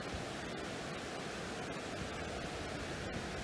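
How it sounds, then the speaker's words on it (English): Rapids on the Moon River roar as a steady, dense wash of rushing whitewater, loud and unbroken, with no voices over it. "we're at our first set of rapids here on the Moon River."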